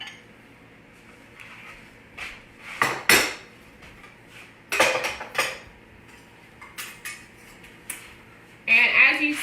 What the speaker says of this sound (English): I'm about to bring a hot dish out the oven.